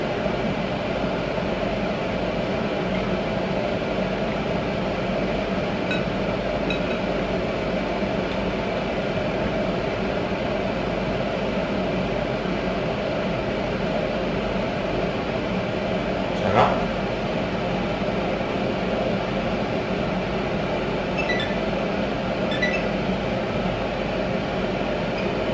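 Bakso meatballs fry in a pan of hot oil, giving an even, unbroken sizzle that holds at the same level from start to finish, with one brief clatter partway through.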